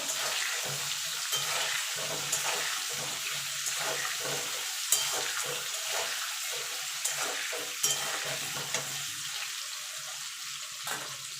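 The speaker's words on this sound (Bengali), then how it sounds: "এটাকে আমি লাল লাল করে ভেজে নেব" Steady, dense sizzle of potatoes with salt and turmeric frying in a pan fills the whole stretch, with occasional soft clinks and scrapes of stirring; no one speaks.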